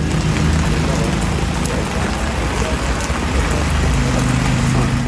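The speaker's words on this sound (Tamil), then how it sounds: "கொடைக்கானல் மலைப்பகுதியில் சுமார் 6 மணி நேரத்திற்கு மேலாக அடர்ந்த பனி மூட்டத்துடன் கூடிய சாரல் மழை பெய்தது." Drizzling rain falls steadily in the foggy Kodaikanal hills, a loud continuous hiss with a low rumble of vehicles passing underneath.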